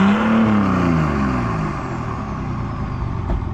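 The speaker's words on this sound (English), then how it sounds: "You should give it a little rev." An off-road 4x4 rig at a campsite in New Zealand's central North Island gives a loud, close engine rev that swells and then drops back to a rumbling idle, with no talking.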